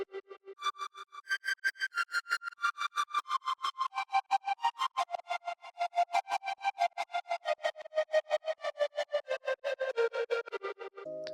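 Plucky synth lead chopped by an LFO into eighth-note pulses, treated with distortion, OTT compression and reverb; a quiet, rapid stream of bright stabs stepping down in pitch, with no bass underneath.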